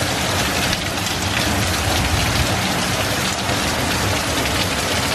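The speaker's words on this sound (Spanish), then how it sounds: "Está el diluvio." Heavy rain pours in a dense, steady roar close by on a stormy day, with faint low rumbles that could be thunder blending into the downpour and no voices.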